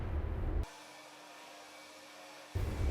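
Welding on the exhaust pipe of a Vauxhall Astra H VXR time attack build: a steady hissing, buzzing burst of about two seconds, close and fairly loud, set between louder rumbling workshop noise.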